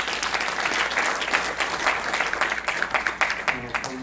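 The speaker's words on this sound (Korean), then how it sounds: "윤순덕 선교사님을 박수로 모시겠습니다" A missionary conference audience gives sustained applause to welcome a speaker to the stage, with a dense, steady clatter of many hands at moderate distance and a few voices underneath.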